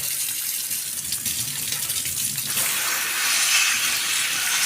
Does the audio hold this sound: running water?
yes